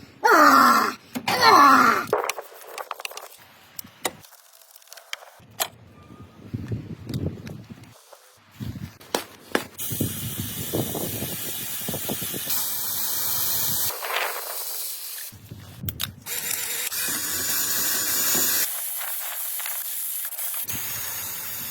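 Aerosol lubricant sprayed onto a squeaky car engine belt: bursts of hissing spray under a running engine, with groaning belt squeals and loud handling noises mixed in.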